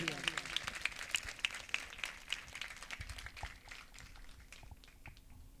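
Audience clapping at a girls' school annual function, scattered and fairly faint, thinning out over a few seconds amid background murmur and voices.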